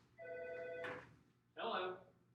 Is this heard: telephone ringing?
yes